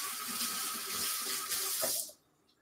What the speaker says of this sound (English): I'm going to keep one hand washed. I'm going to wash one hand.